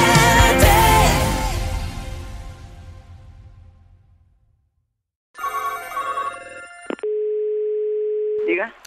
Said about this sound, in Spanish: Estoy llamando a Teresa, es que no me coge el teléfono